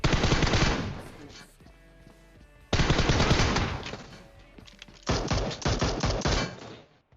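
Three loud bursts of rapid automatic gunfire in PUBG Mobile, split by short, quieter pauses, with no talking.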